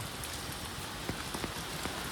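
Steady rain pattering on a surface, with a dense even hiss and a few louder drops standing out. Faint, continuous and without voices.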